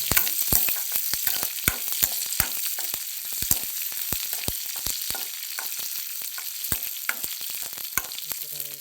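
Hot oil tempering for pumpkin pulusu sizzles steadily as seeds pop and crackle in sharp, irregular bursts, close and fairly loud with no one talking.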